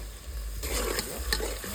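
Asafoetida and chili tempering in hot oil, a quiet hiss that abruptly swells into a loud, close crackling sizzle with a few sharp pops.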